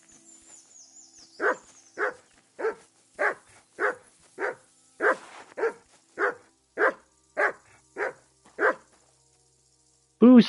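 Mutt, a dog in the video game Kingdom Come: Deliverance 2, barks a steady run of about a dozen evenly spaced, clear barks, close and alone, after a faint whistle-like sound at the start.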